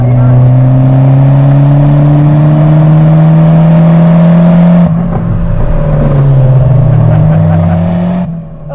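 Lancia Delta HF Integrale rally car holding a steady high engine note through a corner, loud and close, with a brief dip and shift in pitch partway through before it pulls on again.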